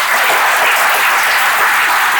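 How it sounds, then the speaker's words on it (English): A packed Rotary club audience breaks into loud, sustained applause to welcome a guest, dense clapping that stays even and close throughout without any voice on top. "So please give him a big round of applause"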